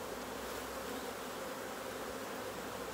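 Bees hum around an open queen-right finisher hive during grafting work, a steady, fairly quiet droning buzz that fills the whole stretch without a break or any voices.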